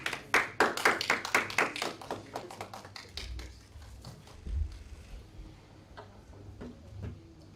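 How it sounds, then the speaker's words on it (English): An audience at a micro-credit association annual general meeting in Ghana claps to welcome the board chair, a dense burst of applause in a hall that fades after about three seconds into scattered faint taps and low room noise. "Let's invite him with the clap."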